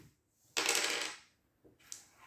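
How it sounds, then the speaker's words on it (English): Two dice rattle and tumble on a tabletop during a miniatures war game, a close bright clatter lasting about half a second, followed by a couple of small taps. "I will be re-rolling 2 of the dice."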